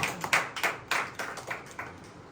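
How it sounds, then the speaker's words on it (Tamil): A church congregation claps hands during a worship service, about eight to ten sharp claps in an uneven, loose rhythm, heard close and fairly loud without talking. "கைத்தட்டி ஆண்டவரை மகிழ்ச்சிப்பார்."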